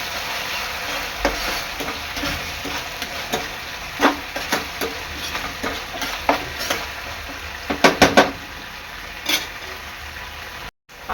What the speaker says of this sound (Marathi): आपला सॉस आहे ना चांगला तीन ते चार मिनटं परतून घ्यायचा आहे